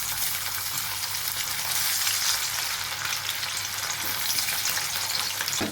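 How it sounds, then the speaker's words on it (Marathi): Pieces of raw banana frying in hot oil for a vegetable dish: a dense, continuous close sizzle that holds at an even level throughout, with no talking. "तेल तापले, त्यामध्ये आपण केळं कापून घेतले ते सोडूया"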